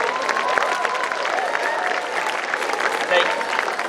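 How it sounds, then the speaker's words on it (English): An audience of more than 400 people at a school alumni meet in Pune applauds in a dense, continuous wash of clapping and crowd noise. It stays fairly loud and even throughout. "So please give a round of applause for yourselves."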